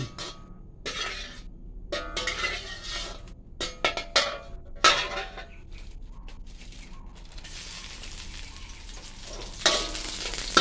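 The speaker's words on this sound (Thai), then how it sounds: "วันนี้จะผัดบวบใส่ไข่นะทุกคน" Luffa gourd and egg being stir-fried in a pan, with a continuous sizzle broken by repeated scraping and clanking of the spatula against the pan.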